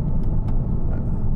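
A 2012 Porsche Cayman 2.9 987 with PDK gearbox downshifts on the move, giving a loud, steady engine rumble with brief blips as the gears change.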